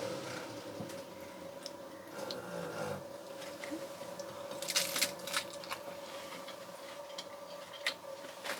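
Someone bites into crunchy lettuce cups with dipping sauce, a few moist crunches and chews heard close and fairly faint over a steady background hum.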